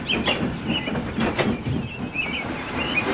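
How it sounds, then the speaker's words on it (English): An express passenger train rumbles and roars past nearby, with a clattering of wheels and faint high squeals over a steady mechanical drone. "The limited rushed by with a growl and a roar."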